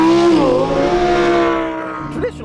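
A Lamborghini Huracan Performante V10 launches hard, its engine note rising loud and close in a sustained roaring surge, then fading slightly as it pulls away.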